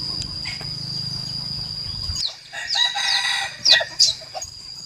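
Hens cluck and call in short bursts over a rural backdrop, with a steady insect-like hum and a high whine early on.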